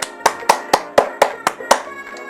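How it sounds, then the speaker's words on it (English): Seven sharp, evenly spaced hand claps in a quick steady rhythm, close and crisp, with nothing else around them. "Can we get a clap?"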